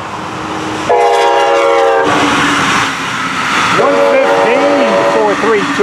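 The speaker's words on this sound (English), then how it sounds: "coming north, Brightline 720" A Brightline passenger train passes close by, blowing its horn in a long loud chord and then again in shorter blasts, over a steady rumble of rolling cars.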